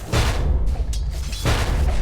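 Heavy thumping impacts from a doubled projectile attack in the video game Dota, two loud booming hits about 1.3 seconds apart over a dense, continuous game backdrop.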